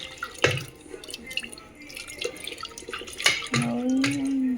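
Pot being washed under a running kitchen tap while making dal dhokli, with drips and splashes, a brief clatter, then a steady stream of water filling and rinsing the vessel near the microphone.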